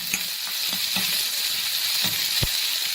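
About fifteen chopped shallots fry in a pan for Tamil yam (karunai kilangu) curry, a steady close sizzle broken by several soft stirring scrapes and taps, with no one talking.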